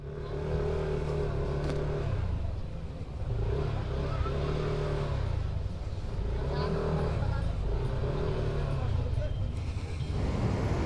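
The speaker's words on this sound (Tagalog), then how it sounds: "Sinakyan pa natin ang ating motor dyan mga master" A motorcycle at a beach resort idles and pulls away, its engine droning and surging in repeated waves, fairly close and loud throughout the stretch, with voices talking now and then over it.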